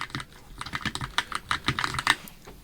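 Rapid, muffled keystrokes on a Keychron K10 mechanical keyboard, typed at an uneven, steady pace up close with no voices.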